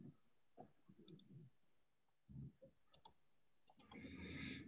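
Sharp computer mouse clicks during a Zoom call, a few isolated taps scattered across the stretch, fairly close and crisp, with muffled room noises between them and no talking.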